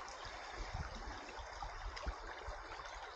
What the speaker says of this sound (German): Mitten im Wald, so ein schöner Bach.